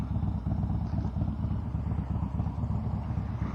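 A Harley-Davidson Dyna with a 95-inch motor and imperfect tuning runs steadily nearby, its low, lumpy engine rumble continuous and fairly loud throughout with no voices.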